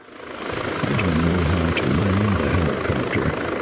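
A helicopter in the video game Still Wakes the Deep thunders close by, its rotor chopping in a heavy, rapid pulse beneath a steady turbine whine, loud and sustained after a quick swell in.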